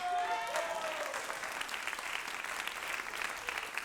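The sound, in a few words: audience applause at satire show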